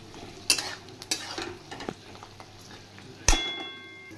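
Onions and chopped capsicum fry in a pan, a low steady sizzle broken by a few sharp spatula scrapes and clanks against the metal, with no talking.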